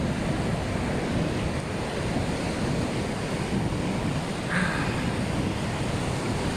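Sea waves washing steadily onto a beach, a continuous broad roar mixed with wind buffeting the microphone, heard alone without talk.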